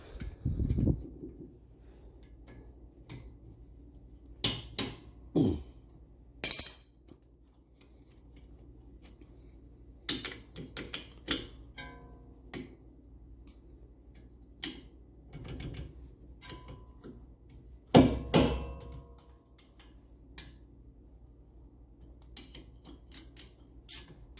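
A wrench works at the brake caliper bolts on a 2015 Toyota RAV4, making scattered sharp metallic clicks and ratcheting ticks in short bursts against quiet background, close and fairly faint, with no talk.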